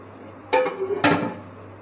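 A metal lid comes off a pot of country chicken dum biryani with two sharp clanks about half a second apart, each ringing briefly, close and clear over a quiet background hum.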